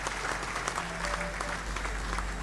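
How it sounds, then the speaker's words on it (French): Dense, steady applause fills a conference hall as a speaker is invited to the podium at a social conference on employment. The clapping is continuous and even throughout, over a low background hum. "Sous vos applaudissements, s'il vous plaît."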